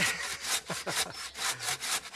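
A hand saw cuts through wood for carving a wooden spoon, steady back-and-forth rasping strokes in a quick regular rhythm, close and loud with no voices.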